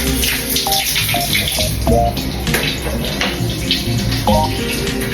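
Water splashes and runs from a tap into a sink as someone washes their face in the morning, with loud close splashing and trickling and a few scattered drips, no talking.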